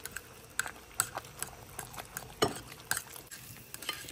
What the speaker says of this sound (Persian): حالا خوب مخلوطشون میکنم